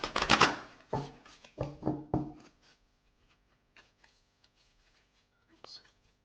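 Oracle cards being shuffled by hand, a few close, crisp riffling bursts early on that taper into scattered faint shuffles and taps, with quiet speech around them.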